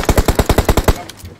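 A burst of about nine rapid, evenly spaced shots from an automatic weapon in a shooter video game, loud and close, cutting off abruptly into quiet background.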